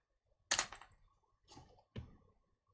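A computer keyboard is tapped in three short, soft bursts of keystrokes, close by in a quiet room, with no talking.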